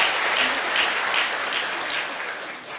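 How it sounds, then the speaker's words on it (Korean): Church congregation at a Sunday prayer service applauding, dense sustained clapping filling the room at a steady level before fading slightly. "영광의 박수를 올려드립니다."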